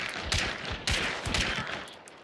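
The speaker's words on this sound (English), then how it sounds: "there are more shots here, so there are definitely more people around" Gunfire in the video game Hunt: Showdown, with a few loud, sharp shots in close succession ringing out over a busy game soundscape, no voices.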